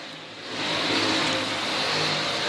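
Stock race cars thunder past on an oval track in a New Year's race, engines rising in a loud, continuous roar as the field comes off turn four toward the line.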